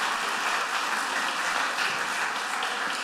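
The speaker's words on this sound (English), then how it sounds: "Give them another round of applause," Steady, dense applause from a church congregation during an Easter Sunday service, a continuous wash of clapping filling the whole moment with no pauses.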